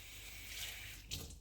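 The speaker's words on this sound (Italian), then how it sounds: "Pane secco, lo bagniamo." Water runs faintly over dry bread as it is wetted by hand, a soft, brief trickle with a small splash near the end.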